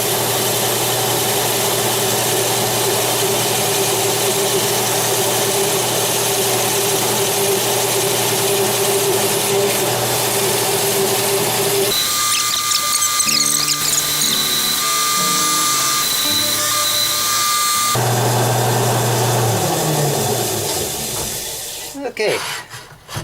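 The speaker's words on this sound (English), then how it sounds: "The lathe is at 600 RPM, so I'll be fine with that." A wood lathe runs steadily at 600 RPM with a Forstner bit boring into a turned vase, a loud continuous motor hum with grinding and rasping cutting noise that changes midway and winds down at the end.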